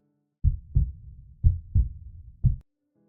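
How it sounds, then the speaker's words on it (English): A heartbeat sound effect thumps in paired low beats, lub-dub, repeating about once a second for three pulses in an otherwise silent space. "my heart pounding in my chest"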